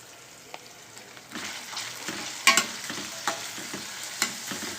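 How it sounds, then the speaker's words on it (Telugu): Spiced bitter gourd pieces frying with salt and turmeric in a pan, a close, steady sizzle broken by repeated scraping stirs and light clinks of the spoon, with no talking. "పసుపు వేసుకొని వేయించుకుందాము"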